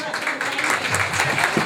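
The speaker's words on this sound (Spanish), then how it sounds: "El aplauso para la danza Cañar Manta." Festival audience applauds a traditional dance group in a short burst of scattered clapping, mixed with crowd voices and talk.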